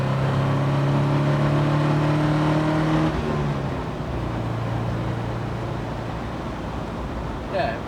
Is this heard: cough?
no